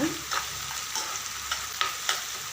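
Small shallots being sautéed to a deep brown in a pan for a Tamil mutton blood fry give a steady close sizzle, with a few sharp spoon scrapes and stirs.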